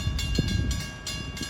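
A train rolls into Stony Brook station on the Port Jefferson Branch, running as equipment for train 657, with a steady, loud low rumble and rattling wheels.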